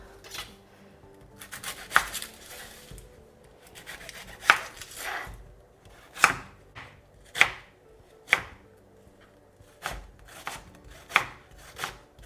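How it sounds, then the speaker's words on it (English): A knife roughly chopping onions on a board in irregular, spaced strokes, crisp and close, with rustling between cuts and no talking. "I'm going to start by chopping up a couple of onions, just roughly chop them."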